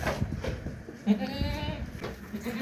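Goat bleating during a difficult birth, a wavering nasal call rising clearly over a noisy, close background with some faint voices and rustle in a farm setting.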